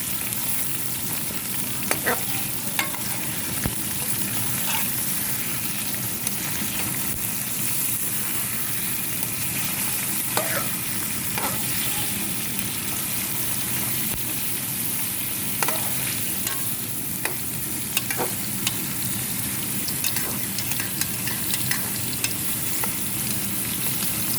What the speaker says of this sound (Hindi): ये 1 किलो गोश्त हम इसमें डालेंगे। इसे हम अच्छी तरह फ्राई करेंगे।